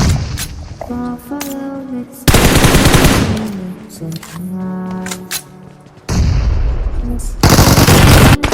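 Bursts of automatic gunfire from a video game shooter come in loud sustained volleys that alternate with stretches of tonal game sound.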